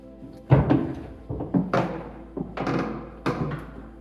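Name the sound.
creaky door in abandoned mansion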